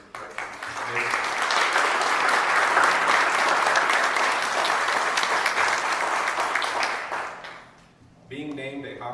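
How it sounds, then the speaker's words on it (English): A hospital audience gives physicians and staff a loud, sustained round of applause at a Women's Choice Awards press conference. The clapping is dense and steady for about eight seconds, then fades as a speaker resumes talking. "Please join me in giving our physicians and staff a nice round of applause"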